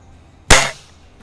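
A single sharp crack from a Crosman Optimus .177 break barrel air rifle firing a pellet during backyard target shooting at 20 yards, loud and close with a brief decaying tail, then quiet.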